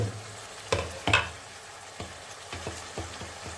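Brinjal frying in an open pan for vangibhath just after the lid comes off, a soft sizzle with a few sharp clanks of a lid or spatula, then lighter rhythmic stirring taps, without speech.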